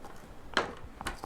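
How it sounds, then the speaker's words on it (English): Scissors snip through cardstock while trimming a Stampin' Up! tuxedo card, giving two short, crisp cuts close by in a quiet room. "And then I'm going to take my scissors, or again I could use my trimmer"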